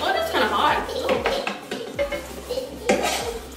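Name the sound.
food sizzling and being mixed in a pan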